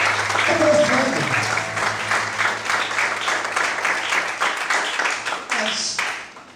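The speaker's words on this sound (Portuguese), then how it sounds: "Cadê o aplauso ao Senhor?" A church congregation claps together during a Portuguese-language sermon, a loud, fairly close burst of many hands with voices and a held musical tone beneath at first, the clapping thinning and fading toward the end.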